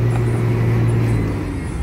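A vehicle overtakes on a quiet morning road near Kalibaru station, heard as a steady, loud engine drone and road rumble from inside the moving car.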